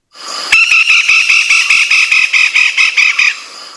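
A woodpecker gives a rapid, even series of sharp, harsh notes, about a dozen in a steady rattling run lasting nearly three seconds, loud and close.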